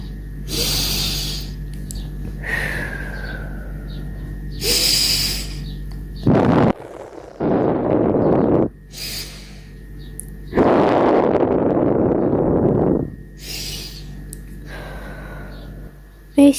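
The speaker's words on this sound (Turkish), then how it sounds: "Yoga yaparken nefes alıp vermek, burundan alıp ağızdan vermek çok önemli." Yoga breathing, drawn in through the nose and pushed out through the mouth, comes as several separate breathy bursts. Each inhale and exhale is loud and close, with quiet pauses between them.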